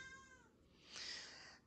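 A cat gives a short, close meow with a rising whine that ends in a breathy, hissing burst at moderate loudness, heard alone without talk.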